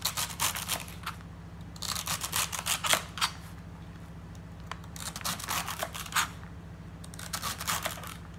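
Knife chopping through a bunch of celery held together, giving irregular bursts of crisp crunching cuts in clusters across the clip, close and moderately loud with no talk.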